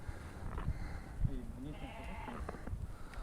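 Sheep bleating in a rural Kazakh village setting, a few wavering, nasal calls rising and falling over steady outdoor background noise, moderately near.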